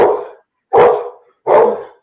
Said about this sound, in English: Is that your dog, Melik?